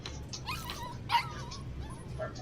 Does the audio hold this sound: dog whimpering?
yes